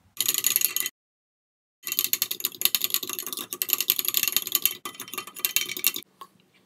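A homemade cracked-heel cream is mixed in a bowl with rapid, clicky scraping strokes, close and crisp, breaking off for about a second before resuming in a longer continuous burst; no one speaks.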